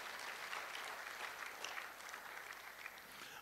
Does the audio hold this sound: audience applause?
yes